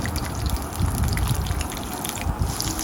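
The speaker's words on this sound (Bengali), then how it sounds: "আর এখানে কয়েক কোয়া রসুনও আমি ভেজে নিচ্ছি।" Garlic cloves frying in oil over low heat, giving a close, continuous bubbling crackle with light spattering.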